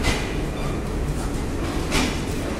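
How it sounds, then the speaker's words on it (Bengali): The Nilsagar Express train departs Parbatipur Railway Junction, Bangladesh, rumbling and clattering nearby in a continuous roar, with a couple of louder metallic surges. "ঢাকা অভিমুখী Nilsagar express Parbatipur railway junction থেকে মাত্র 3 মিনিট বিলম্বে ঢাকার উদ্দেশ্যে যাত্রা করলো"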